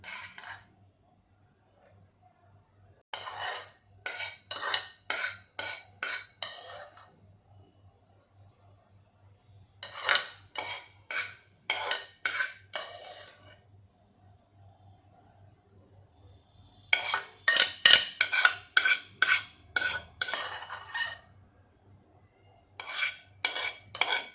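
Repeated bursts of metal utensil scraping and clinking against a pressure cooker as rice is served onto a plate, coming in clusters with quiet pauses between, close by; no talking.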